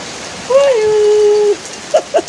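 Steady rain falls on surfaces outdoors as an even hiss throughout, while a sustained voice-like tone and a few short chirps rise briefly above it.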